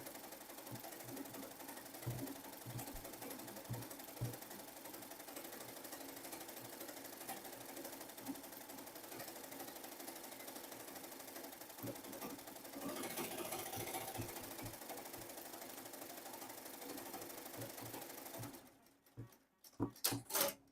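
An embroidery machine stitches the outline of a sunflower design, giving a steady fast needle patter that holds for most of the clip and then stops, followed by brief knocks near the end.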